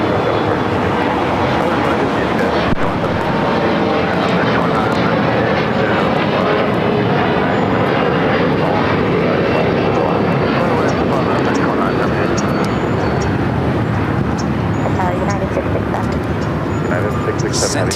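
Boeing 787-8 Dreamliner jet engines roaring steadily and loudly at LAX as the airliner heads out for Tokyo Narita, a dense broadband rumble with a whine on top, with talk over it.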